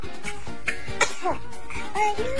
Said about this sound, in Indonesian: ia bersin dengan suaranya yang lucu